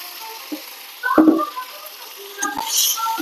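Paneer pieces drop into hot oil in a home kitchen, giving a soft sizzle with a couple of short clattering bursts and light frying crackle, close and moderately loud with no talk.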